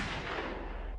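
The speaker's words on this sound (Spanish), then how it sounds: "Entonces el atracador se puso a un lado y les disparó." A single booming gunshot from a robber firing at a couple during an armed robbery, loud and dense with a rumbling low tail that fills the brief moment.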